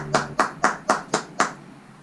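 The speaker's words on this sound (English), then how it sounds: "I gotta give a round of applause for the cast." Six sharp hand claps from a single person, evenly spaced and close, each ringing briefly before the next, with silence after the last.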